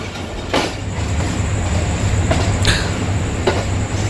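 The Fareed Express passenger train runs along the Pakpattan route, a loud, continuous rumble of wheels on rails with steady rolling noise and a few sharp metallic clanks and squeals, heard from on board.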